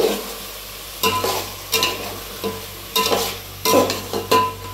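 Chili powder is stirred into biryani masala frying in a pan. A spoon makes about half a dozen irregular scraping strokes, close and clear, over a low sizzle, with no one talking.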